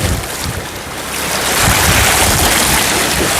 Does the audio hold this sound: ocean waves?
yes